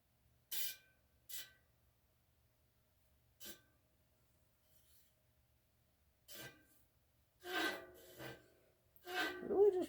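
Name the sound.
bicycle tire rubbing at the seam on a truing stand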